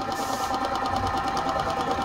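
A Singer Fitlyn 6700 sewing machine stitches a design with a steady, fast mechanical whir and rhythmic needle chatter, running continuously close by.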